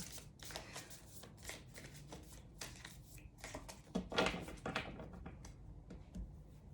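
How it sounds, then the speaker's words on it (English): Tarot cards shuffled and drawn from a deck, a steady run of soft riffling slaps and flicks with a louder burst of card handling partway through, close and alone without talk. "I will start by pulling a few cards"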